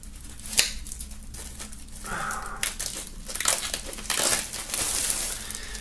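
Plastic foil is peeled and crinkled off a gatefold double vinyl LP set, close crackling and rustling that rises in short bursts and stretches.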